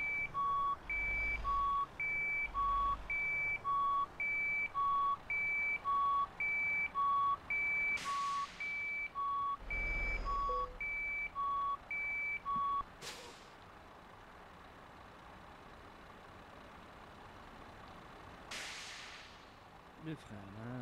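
Steady, evenly spaced truck reversing beeps in Euro Truck Simulator 2 repeat for several seconds over a low engine hum, then stop, followed by a hiss of air brakes.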